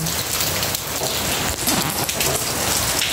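Steady heavy rain pours onto surfaces outdoors during a rainy spell, a loud, dense, continuous hiss with scattered drop patter and no voices.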